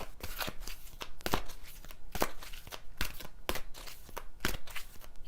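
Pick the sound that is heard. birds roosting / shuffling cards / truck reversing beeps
shuffling cards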